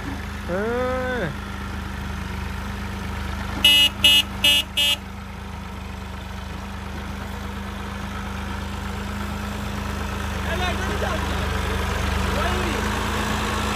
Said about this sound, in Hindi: ट्रैक्टर जी आपके भाई ने चलाया है